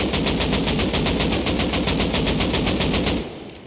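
Rapid sustained automatic fire from an AK rifle in the video game Rust, a fast even string of loud shots lasting about three seconds before cutting off into a short fading tail.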